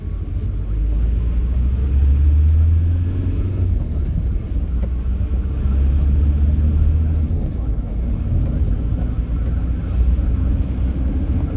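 A van, a Mk7 Ford Transit, drives along sunny country roads, its steady low engine and road rumble filling the cabin throughout, with slight swells in the drone as it travels.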